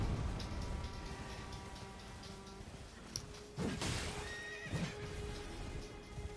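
Horse in the video game Elden Ring, with hooves clip-clopping and a sharp neigh breaking out midway, set against a steady game ambience with faint ticking.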